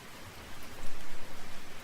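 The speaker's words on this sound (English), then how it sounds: "the rain really hasn't let off" Steady soft video game rain falling, a dense hiss of drops with a faint low rumble, no voices.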